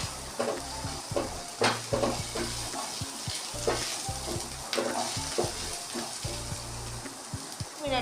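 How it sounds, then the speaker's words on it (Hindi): Chopped garlic and ginger frying in a pan for a spring roll filling, a steady bright sizzle broken by repeated scraping stirs and light clinks of the spoon against the pan. "जो हमने लहसुन अदरक चॉप करके रखा था, ये हम इसमें डालेंगे। सिर्फ 1 मिनट इसकी भुनाई करेंगे।"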